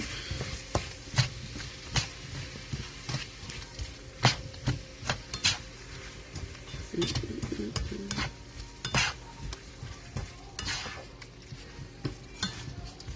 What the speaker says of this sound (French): Puis là, je vais juste tout mélanger.